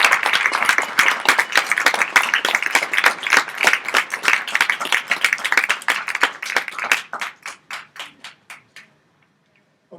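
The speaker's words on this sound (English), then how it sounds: "big round of applause for" Audience applause at an exhibition opening event, dense clapping from a crowd that thins out over the last few seconds into a handful of separate claps before fading to silence.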